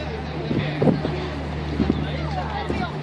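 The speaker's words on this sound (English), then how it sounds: "Boat going through the city." A boat's engine drones low and steady nearby as it passes through a city waterway in Shanghai, with faint wind and city background noise around it.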